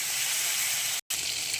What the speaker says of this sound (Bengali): বেশ তেলের মধ্যে ভাজা ভাজা হচ্ছে